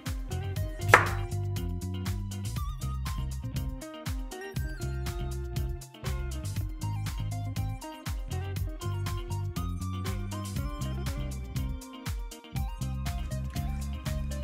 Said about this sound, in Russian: Огурцы нужно нарезать полукольцами.